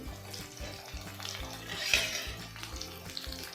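Onion, green chillies and other ingredients frying in a pan for a greens and cowpea sambar, giving a steady close sizzle and bubbling with light stirring over a low background hum.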